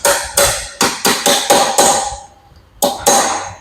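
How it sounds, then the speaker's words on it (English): Sharp metal hammer blows driving back the end of a New Holland skid loader hydraulic cylinder to reach an internal snap ring: about eight loud, evenly spaced strikes, each ringing briefly, with a short pause before the last two. "I'm gonna hammer this back because that's gonna have an internal snap ring."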